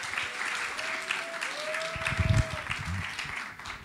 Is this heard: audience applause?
yes